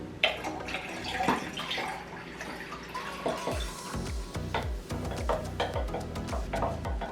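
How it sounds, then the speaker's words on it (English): Simple syrup pours into tea, heard close and moderately loud as a gurgling trickle with scattered drips, light clinks and small splashes. "So now I'm just going to pour my simple syrup in."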